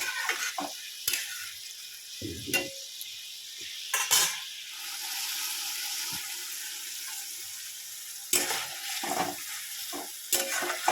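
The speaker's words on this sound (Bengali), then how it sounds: "এবার সিমগুলো দিয়ে দেবো, সিমগুলো দিয়ে দিলাম।" Green beans hit a pan of simmering mustard and poppy seed paste, giving a steady close sizzle broken by sharp scraping stirs and clatters at irregular intervals.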